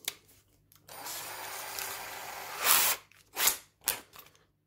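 A power drill countersinking a hole for a GoPro mount, whirring in a close, steady run of a couple of seconds, then a louder burst and a few short, rising pulses before stopping.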